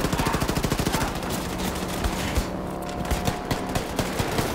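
Rapid semi-automatic pistol fire in the shooter Wolfenstein II: The New Colossus, a fast train of sharp, loud shots that stops briefly, then resumes as a sparser string of single cracks.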